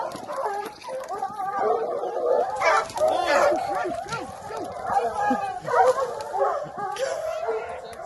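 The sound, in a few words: hunting dogs barking while chasing a bear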